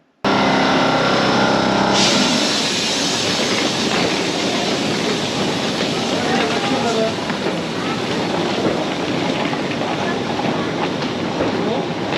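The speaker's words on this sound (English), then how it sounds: "ready to take off and head over to Switzerland on the TGV Lyria" A TGV Lyria high-speed train travels from Paris toward Switzerland, its loud, continuous rumble and rushing wind noise filling the cabin after a brief quiet start, with voices faintly present.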